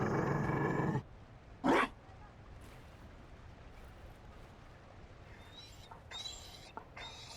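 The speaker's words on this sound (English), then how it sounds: "You found a dog?" Dragon Age: Inquisition, a Mabari war dog growling: a brief, deep rough rumble mid-scene, set between game dialogue and quieter ambient sounds.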